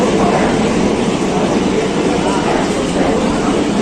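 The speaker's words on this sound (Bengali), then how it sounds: "এখন ঢুকছে আমাদের ব্ল্যাক ডায়মন্ড এক্সপ্রেস" Black Diamond Express rolling into a station platform, a steady broad rumble of rail noise filling the whole stretch with people talking over it.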